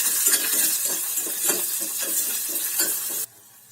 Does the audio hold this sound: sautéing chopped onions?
yes